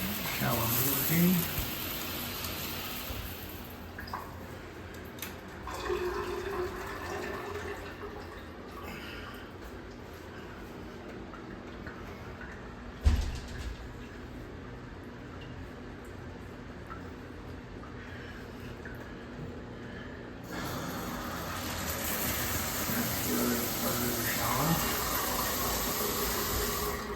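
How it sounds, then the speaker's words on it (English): A bathroom shower runs in a property being inspected, a steady hiss of spraying water that swells and fades through the recording, with bumps and handling noise and a person talking at points. "Shower working."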